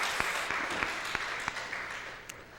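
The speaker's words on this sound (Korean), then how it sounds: "구역 찬양 박수 한번 다시 드립시다." A church congregation at a Sunday afternoon worship service claps in applause, a steady wash of many hands with a few sharper individual claps standing out, fairly close and even in level.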